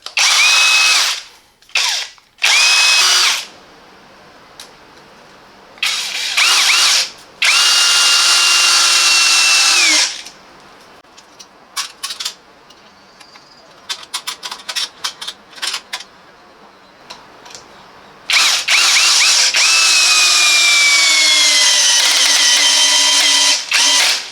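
Parkside Performance 20V brushless cordless drill driver, model PBSAP 20-Li A1 on a regular battery, boring into wood in repeated loud bursts of high whine, some long and some short, with brief pauses between.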